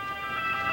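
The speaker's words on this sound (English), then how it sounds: "That's an ambulance. That's another ambulance." Ambulance siren sounding along a street in Rome, a steady high wailing tone over low traffic rumble, continuous through the short moment at moderate distance.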